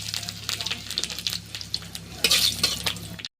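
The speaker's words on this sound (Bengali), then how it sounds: "শুকনো লঙ্কা, তেজপাতা আর জিরে দিয়ে দিচ্ছি।" Dry chillies, bay leaf and cumin crackle and sizzle in hot oil in a wok, with scraping stir sounds, a busy close frying texture that grows louder near the end before cutting off.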